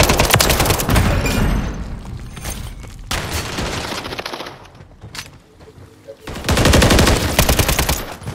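Rapid automatic gunfire from Call of Duty MW3 ranked Hardpoint play crackles in loud bursts separated by quieter gaps, with one last heavy burst near the end.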